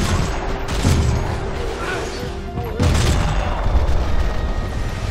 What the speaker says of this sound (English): Firefights are intense at normal speed and bullet time.